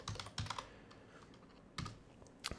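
Short bursts of typing on a computer keyboard while entering text in editing software, close and fairly quiet, with clusters of key clicks separated by brief pauses.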